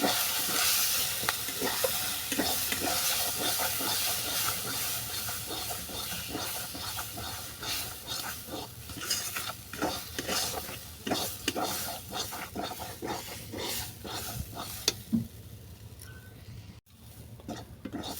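Dal sautéing with salt and turmeric for shukto sizzles continuously, broken by repeated scraping strokes of a spoon against the pan, steady at first and then thinning out toward the end.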